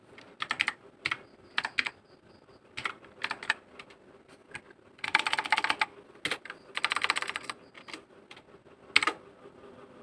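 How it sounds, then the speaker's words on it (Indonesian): Someone types Java code on a computer keyboard in bursts of close, crisp key clicks. Short pauses separate the bursts, and a few longer rapid runs stand out. No one talks. "kita ketikkan dulu datanya ya"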